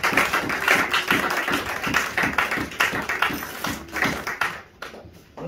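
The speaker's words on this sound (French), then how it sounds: "Acclamons encore une fois pour moi." A church congregation claps together in a steady, fairly fast rhythm for several seconds. The clapping fades out near the end.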